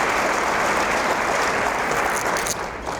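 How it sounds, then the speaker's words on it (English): A crowd at a school superintendent's breakfast gives a loud, dense round of applause, steady clapping throughout that eases slightly toward the end. "How about a great round of applause for the EC Glass and Heritage kids"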